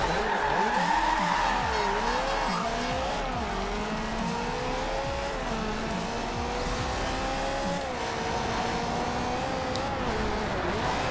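A race car in the Forza Horizon 2 driving game revs continuously as its engine pitch rises and falls, with long tire squeals and skidding running throughout at steady loudness.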